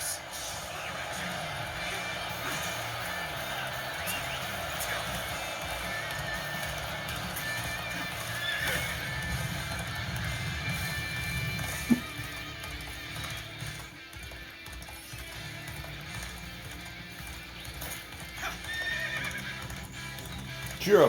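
In the video game Dynasty Warriors Origins, a horse neighs and hooves clip-clop amid busy battle noise, with game voices speaking intermittently over a dense, steady mix.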